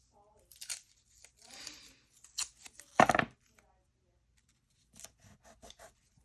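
Masking tape torn off the roll and pressed onto a blank handmade junk journal, a sharp ripping burst near the middle amid scattered close crinkles, rubs and small taps, then quieter handling sounds.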